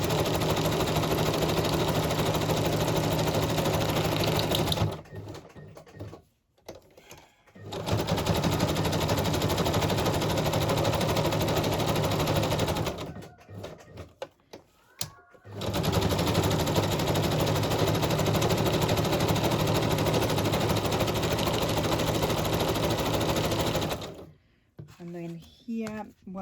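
Sewing machine stitching a pocket onto a journal page, running in long loud steady bursts of rapid whirring with short pauses between, and a brief quiet stretch near the end.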